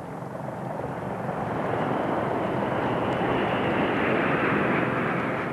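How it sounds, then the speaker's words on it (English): Aircraft flypast overhead at a 1994 D-Day commemoration with 56 aircraft from 11 nations, a continuous broad engine roar that swells steadily louder as the planes pass, with no talk. "as the flypast soared overhead"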